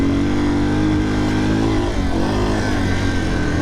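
A motocross motorcycle engine drones loud and close through a corner on a practice track, holding a steady pitch and then dipping briefly as the throttle eases before pulling again. The engine runs alone with no talking.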